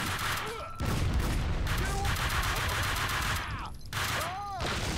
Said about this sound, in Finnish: Siis kuka täällä nyt ampuu?